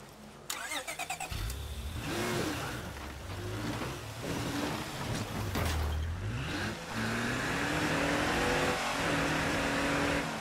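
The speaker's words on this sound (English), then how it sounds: "Gonna go grab the car." A car engine in the video game State of Decay 2 cranks and starts with rapid chugging, then idles and revs up and down, rising in pitch as it drives off.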